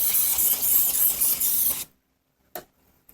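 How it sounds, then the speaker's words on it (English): An aerosol spray hisses steadily for about two seconds onto a power steering reservoir from a BMW 330ci, close and fairly loud, then cuts off into silence broken by a single short knock. "I'll just spray this down a little bit."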